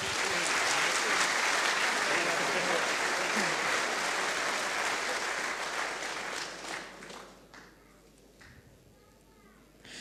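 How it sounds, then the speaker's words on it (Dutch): Loud, dense applause from an award ceremony audience for the Noordhofprijs 2012 at Eindhoven University of Technology, sustained for several seconds before thinning out and fading toward the end. "Dames en heren, een hartelijk applaus voor deze kanjers."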